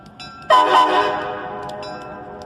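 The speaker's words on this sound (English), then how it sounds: "making sure the crossing is clear of traffic for the train to pull out of the station" A Lebanon Mason and Monroe holiday train sounds a loud, sustained horn blast at night as it pulls out of the station, the chord holding then fading slowly alongside fainter rumble.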